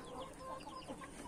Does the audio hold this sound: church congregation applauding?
no